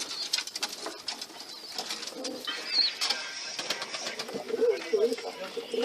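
Pet pigeons cooing in a loft, soft low coos with occasional wing flutters over steady background noise, continuous through the moment.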